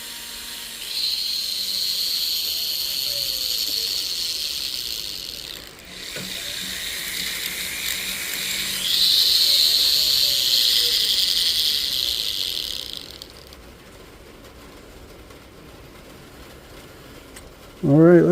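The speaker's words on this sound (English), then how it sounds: "We just want to use a silicone wheel because" Silicone polishing wheel on a rotary tool grinding a thin piece, a steady high whine that runs in two long passes with a short pause between, then drops away near the end.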